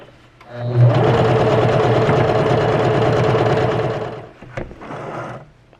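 A Juki HZL-K85 beginner sewing machine stitches lettering, its motor whirring in a loud, steady run for about three and a half seconds before stopping, followed by a few brief clicks and handling sounds.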